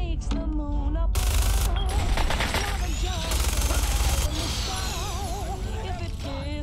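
Minigun fire in Fallout 4, a dense, continuous rattle of rapid shots running loud through most of the stretch, with pitched whines and other game effects layered over it.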